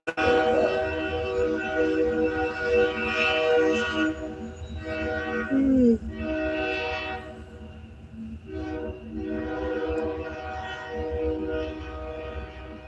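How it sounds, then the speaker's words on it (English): A train rolls past on the far side of a river, its horn sounding in long sustained blasts over a steady rumble of railcars, moderately distant and continuous. "Sounds like we got a train."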